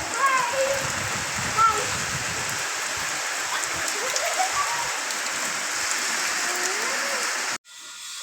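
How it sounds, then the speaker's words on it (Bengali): Steady rain pours down during the monsoon in Bangladesh, a dense and even hiss that holds for about seven and a half seconds before cutting off abruptly. A faint voice can be heard under the downpour. "আর বৃষ্টি নামে গেছে"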